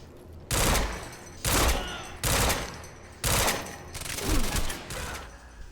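Gunfire in the Quantum Break video game: four or five loud bursts of automatic fire, each about half a second long and evenly spaced, close and heavy, then a rougher mixed burst at the end.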